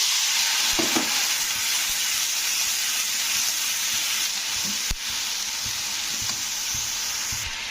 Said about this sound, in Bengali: লঙ্কার গুঁড়োটা একটু তেলের মধ্যে নাড়াচাড়া করে দিয়ে দিচ্ছি জল